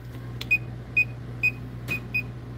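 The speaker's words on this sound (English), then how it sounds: "It's beeping on that bottom breaker, not the top breaker." A circuit tracer beeps on a breaker, sharp short tones repeating roughly every half second, clear and fairly near over a low steady hum.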